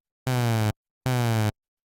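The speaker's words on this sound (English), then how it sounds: "So when we press a key now, the pitch modulates like this." Two sustained synthesizer notes, each about half a second with a clean pause between, held steady with harmonic tones, the pitch gliding subtly downward under a gradual attack and ending abruptly; no voices.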